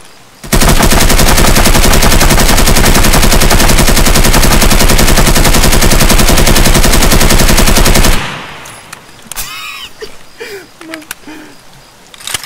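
Sustained rapid automatic gunfire from a video game firefight, loud and continuous for about eight seconds, then cutting off to quieter in-game ambience with faint chirps.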